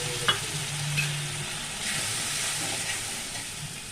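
Spice paste hitting hot oil in a pan while cooking a fish dish, with a steady sizzle and hiss and some brief stirring scrapes up close, with no talking.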